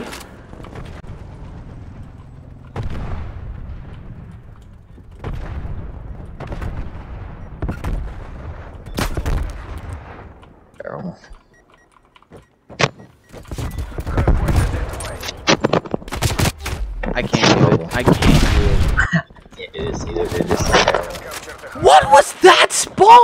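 Gunfire in a Call of Duty match, with sharp bursts and single shots scattered throughout, growing denser and louder in the second half, heard under a player's excited talk.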